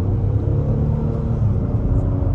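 A 2023 Acura MDX Tech accelerating at about one-third throttle, heard from inside the cabin as a steady, loud low engine and road rumble with no speech.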